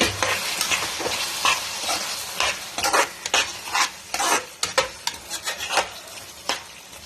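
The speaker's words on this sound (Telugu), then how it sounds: "కలుపుకొని ఒక్క 2 నిమిషాలు బెల్లం అంతా కరిగి అది కూరకు పట్టేదాకా ఉంచాలి." Spoon stirring jaggery into bottle gourd curry frying in a pan, a steady sizzle under repeated scraping strokes against the pot, close and loud with no talking.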